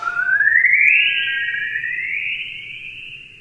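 Earth's chorus radio waves recorded in space by NASA's Van Allen Probes and converted to sound: a single rising, chirping whistle sweeping upward and then holding, loud at first and slowly fading over a faint low hiss.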